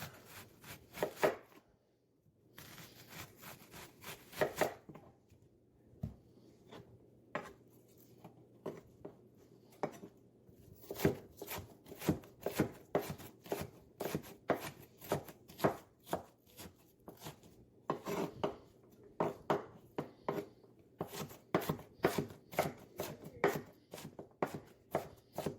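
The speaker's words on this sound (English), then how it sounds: "We're going to dice up some red onion." A knife dices red onion on a cutting board in quick, irregular bursts of crisp chops and taps, close up and steady, with brief pauses between runs.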